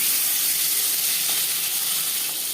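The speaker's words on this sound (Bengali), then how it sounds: "3 চামচ রিফাইন্ড অয়েল গরম করে নিয়েছি। দিয়ে দেব মাছ।" Pabda fish dropped into three spoons of hot refined oil: a loud, steady, close-up sizzling hiss that fills the whole moment without pause or talking.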